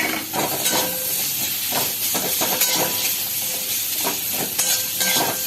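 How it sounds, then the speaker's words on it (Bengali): Onion, ginger and garlic frying in a pan, giving a continuous loud sizzling hiss throughout with faint clinks of a utensil now and then. "আগে পেঁয়াজ, আদা, রসুনটা একটু ভেজে নেব।"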